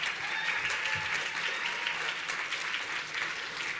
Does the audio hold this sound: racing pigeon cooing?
no